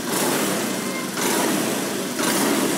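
A Honda Beat ESP scooter with a fault that makes it stall at full throttle, its engine held wide open in a loud, steady, close roar that swells twice as the throttle is pushed again.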